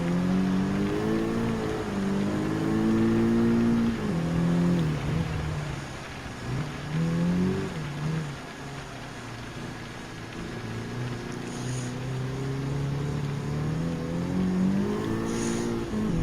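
Race cars in Gran Turismo 7 on a driving mission, engines revving up and down through gear changes, several swelling and easing passes of strong engine drone over the full stretch.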